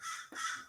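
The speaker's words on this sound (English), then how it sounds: "Ooh, I got some crows outside." Two loud crow caws from outdoors, each a harsh, raspy call lasting about a quarter second, separated by a brief pause.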